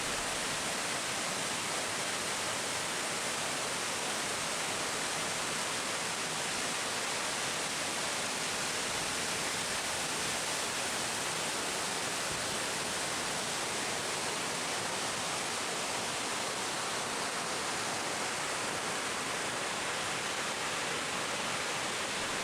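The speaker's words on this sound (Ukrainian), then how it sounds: "Під мостом можна бачити струмок Панківський, який ще називають Ботанічним" The Pankivskyi stream in Kyiv runs beneath a bridge during a heavy downpour, a dense, unbroken rushing of water that holds steady and loud throughout, with no voices.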